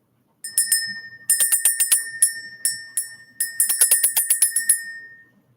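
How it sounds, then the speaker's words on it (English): A small hand bell is rung in quick bursts of bright, tinkling strikes, several clusters of rapid dings with short pauses between, close and alone with no voices. "So let's ring the bell."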